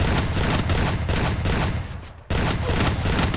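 Rapid gunfire from the battle royale video game Garena Free Fire, loud dense bursts of shots filling the whole stretch with a brief dip near the middle, no voices over it.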